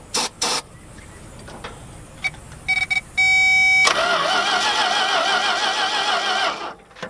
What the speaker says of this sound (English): I'm going to make it run off of the starting fluid just until it can pick up some gas from the fuel pump